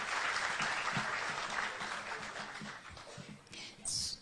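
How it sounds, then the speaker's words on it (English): Audience applause for the panelists at a World MSME Day event at KICC in Nairobi, a sustained round of clapping from a large hall that thins out toward the end, with a voice speaking faintly underneath. "Let's give another round of applause to our panelists."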